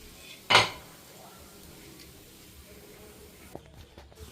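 Fried rava paniyaram being set onto a plate with a single sharp clink of utensil on dish, followed by faint quiet handling and a small tap near the end.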